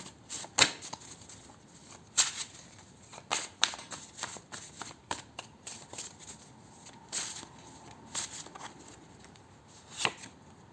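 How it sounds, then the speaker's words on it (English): Tarot cards are shuffled and pulled, with repeated crisp riffles and snaps in irregular bursts, close by and fairly quiet. "I'm gonna pull some health and lifestyle cards for you here as well."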